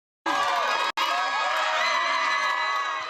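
A crowd of supporters cheers, whoops and shouts just after court is adjourned, a loud sustained burst of voices that starts abruptly, breaks briefly and carries on to the end.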